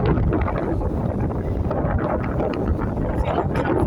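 Strong wind buffets a lake front with sandy shore, a continuous loud rush and roar that pummels the microphone throughout with no pauses.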